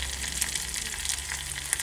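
Food frying under a lid in a pan on a gas stove, likely eggs: a steady, close, soft sizzle with faint crackles throughout and no talking.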